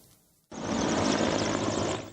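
A medical helicopter at a hospital helipad in Tatarstan roars in suddenly after a brief quiet moment, its engine and rotor noise loud, broad and steady for the remainder, heard up close with no talking.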